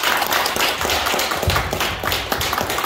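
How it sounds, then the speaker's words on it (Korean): An audience applauding after a speech at a meeting of pastors held on the tenth floor of a building, dense and close, with sharp irregular claps running continuously and fairly loud. "다시 뜨거운 박수 부탁합니다"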